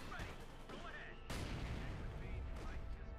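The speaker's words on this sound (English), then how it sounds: "They get hit by a mortar round." A mortar round slams down in a Company of Heroes 2 match, a sudden heavy explosive boom rising out of continuous battlefield rumble and scattered gunfire while a voice talks over it.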